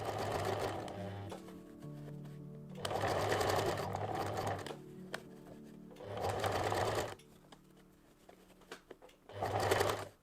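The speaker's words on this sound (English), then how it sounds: "I keep sewing a little bit, readjust, sew a little bit and readjust." Sewing machine stitching a fabric bow tie gift bag in short bursts, running in four loud runs of a few seconds each separated by quiet pauses for readjusting, close and alone without talk.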